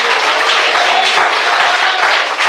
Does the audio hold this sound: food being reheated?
no